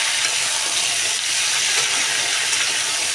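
Washed pumpkin sizzles in hot oil alongside fried onion and cumin, a loud, dense, continuous crackle with no pauses and no voices.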